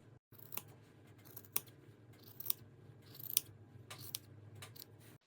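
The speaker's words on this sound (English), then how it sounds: "I'm going to cut along this line now." Scissors cutting through a hand-knitted scarf along a line, a handful of quiet crisp snips spaced unevenly over a faint, hushed background.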